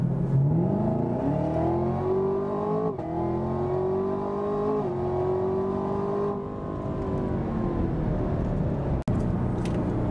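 Chevrolet Camaro ZL1 engine pulling hard under quick acceleration, a loud, steady rising drone heard from inside the car, with a brief shift dip partway through and a sharp click near the end.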